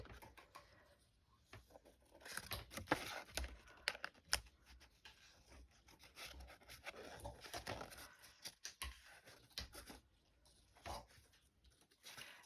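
Pieces are cut out quickly, faint irregular snips and rustles close by with short pauses, quiet throughout and without talking.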